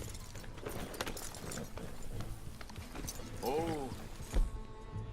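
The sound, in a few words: Charles's horse galloping in Red Dead Redemption 2 video game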